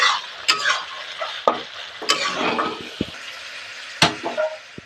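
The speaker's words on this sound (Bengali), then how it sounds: "পেঁয়াজটা ভালো করে নেড়ে দেবো একবার।" Onions for birista sizzle in hot white oil in a karai while a spatula stirs them, the continuous frying hiss broken by several sharp scraping knocks of the utensil against the pan.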